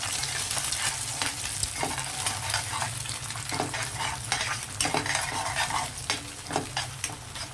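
Scrambled eggs frying and being stirred in a pan, a continuous close sizzle broken by scraping strokes of a utensil at irregular intervals, with no voices.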